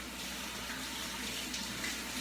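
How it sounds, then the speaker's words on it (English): A kitchen tap runs steadily as hands are rinsed under it, a continuous close hiss of flowing water with no talk. "Rinse my hands."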